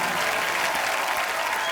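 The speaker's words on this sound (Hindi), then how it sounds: "तालियां और जोरदार होनी चाहिए।" Studio audience at a Diwali comedy talk show bursting into loud, dense applause, a thick continuous roar of many clapping hands with no pause or voices on top.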